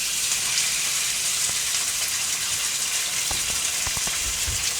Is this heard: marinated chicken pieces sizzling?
yes